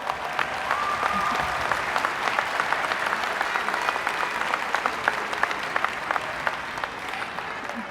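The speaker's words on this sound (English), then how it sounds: "Let's give them a round of applause." Parents of graduates applauded at a high school graduation ceremony, a large crowd clapping steadily and continuously in an indoor hall, with some murmuring among the clapping.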